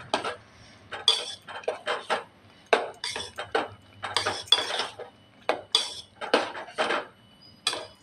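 Grated coconut is sautéed in a pan, and a metal spatula scrapes and clinks against the pan in quick, uneven bursts all the way through, close and fairly clear, with no one speaking.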